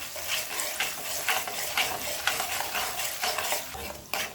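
Cumin paste and turmeric stirred in hot oil in a pan, a steady close sizzle with repeated scraping strokes of a spatula, no voices.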